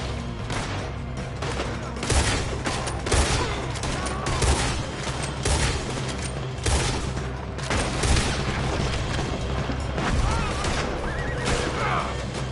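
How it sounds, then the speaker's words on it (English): Enemies firing guns in Red Dead Redemption 2 during a robbery gone wrong, a dense, continuous barrage of overlapping gunshots and booms that keeps up steadily without a break. "Why are they all shooting at me?"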